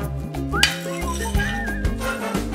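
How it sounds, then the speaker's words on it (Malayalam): Ladle clinking against a metal pot while payasam is stirred, several sharp metallic taps spaced irregularly over a low humming background, close and moderately loud. "ആദ്യം ഇങ്ങനെ റൗണ്ട്, പിന്നെ തിരിച്ചങ്ങനെ ഇളക്കണം"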